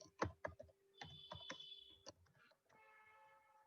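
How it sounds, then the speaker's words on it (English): Computer keyboard typing: a few sharp key clicks and a double press of the enter key, close and fairly quiet, followed by a brief tonal hum. "Then clicking double enter."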